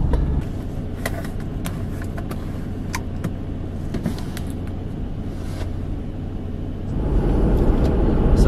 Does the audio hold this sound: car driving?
yes